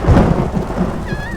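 Heavy rain pours down in a steady, loud wash with a low thunder rumble underneath, at an outdoor Jeep gathering in the Great Smoky Mountains.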